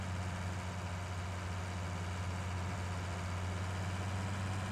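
A tractor engine in a farming video game drones at a steady low idle-like rumble, loud and continuous with no talk over it.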